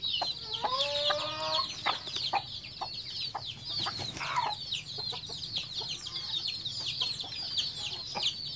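A brooding hen on her nest and her newly hatched chicks sound off continuously, a dense chorus of high peeps over low occasional clucks, close and steady throughout.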